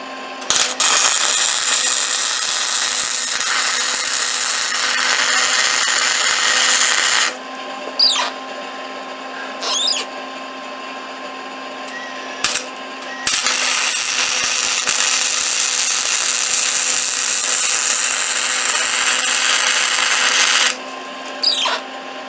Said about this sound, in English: I got the old little Lincoln flux core welders fired up here